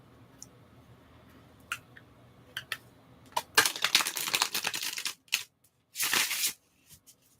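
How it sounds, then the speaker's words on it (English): Tarot cards are mixed by hand close up in a quiet room: scattered soft clicks first, then a dense run of papery riffling and slapping, a short pause, and another burst of shuffling. "just kind of mix all the cards together like so"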